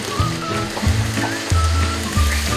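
Green chillies and a yogurt mixture hit chicken cooking in a karahi, giving a loud, close, hissing sizzle with periodic low thumps and stirring scrapes roughly every half second.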